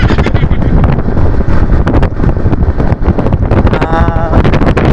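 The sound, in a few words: strong wind while riding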